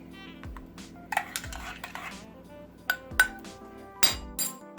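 A spoon clinks against the inside of a coffee cup while it stirs, several bright, close taps at an uneven rhythm against a quiet background.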